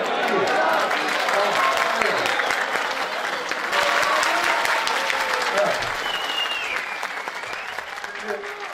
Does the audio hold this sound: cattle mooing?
no